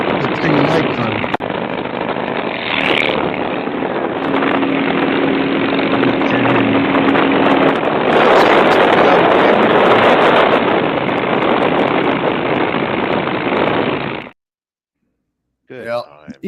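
Loud motorcycle engine droning steadily up close for about fourteen seconds, a broad rumbling noise with wind buffeting, then cutting out abruptly before a brief voice.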